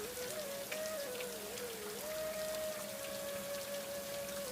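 Steady rain patters densely on a surface, with a faint continuous tone running beneath the downpour.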